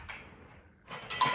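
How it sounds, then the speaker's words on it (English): A spoon stirs a honey mixture with Italian seasoning in a bowl, giving faint, soft scraping followed by a few brighter, louder clinks against the bowl near the end. "And then I'm going to give that a mix."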